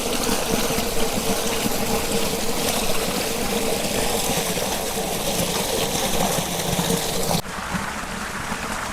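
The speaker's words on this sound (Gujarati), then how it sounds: "હવે ભાઈ પાણી શરૂ થઈ ગયું છે, હાથ પગ ધોઈ નાખીએ" Water gushes steadily from a farm pump outlet, a loud, continuous rushing and splashing roar that holds constant and then drops slightly in level near the end, with no voices.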